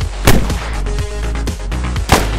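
Sharp booming rocket launches in the video game Arma 3, a few loud blasts spaced through a busy military soundscape, close and punchy.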